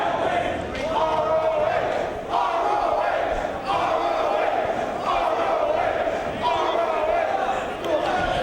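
A live Ring of Honor wrestling crowd chants in rhythmic unison during a two-out-of-three falls match, loud repeated bursts of massed voices with short pauses between, filling the arena.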